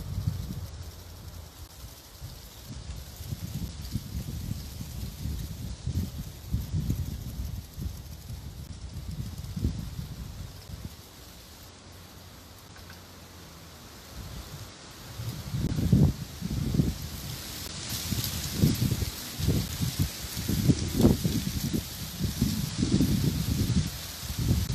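Dry leaves rustle in gusts of wind, a crackly hiss that swells, fades, then returns stronger and busier toward the end.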